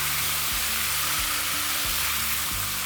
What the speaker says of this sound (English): So just slowly add it and then give it a stir.